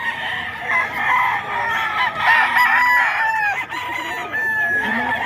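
A crowd of chickens and roosters at a poultry market, with several overlapping crows and clucks from different birds, loud and nearby, continuous throughout.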